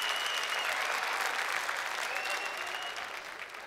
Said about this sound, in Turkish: Jürisine büyük bir alkış.